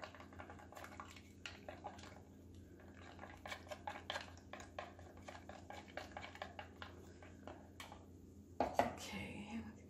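Blue melt and pour soap is stirred in a container, soft scraping and light taps of a utensil against the sides, quiet and intermittent, with a louder knock near the end over a low steady background hum.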